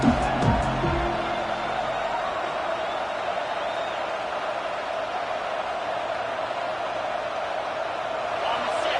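A stadium crowd in an American football video game makes a steady, broad roar of cheering that holds evenly throughout under a commentator's voice.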